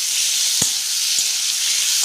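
Loud, steady sizzling of mushrooms frying in plenty of hot oil in a wok fills the sound, broken by two or three brief utensil taps against the pan.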